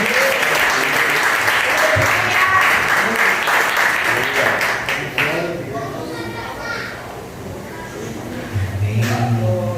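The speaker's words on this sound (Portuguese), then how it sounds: "com a forte salva de palmas do Senhor Jesus" A church congregation in Cariacica applauds heartily during a festival service, a sustained burst of clapping that fades after several seconds as voices and a few scattered claps continue.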